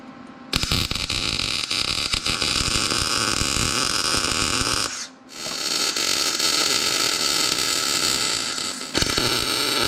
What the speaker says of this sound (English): Got some welding to do